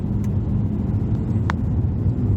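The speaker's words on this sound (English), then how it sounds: "I'm going to push this car a little bit harder in the turns here" A Genesis G80 3.3t in sport mode being pushed hard through turns on a winding road, heard as a steady loud engine and road rumble from inside the cabin, with a few faint brief clicks.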